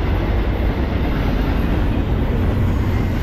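A freight train passes close by on the BNSF Lehigh Line, a loud, continuous rumble and roar of rolling railcars with no talking.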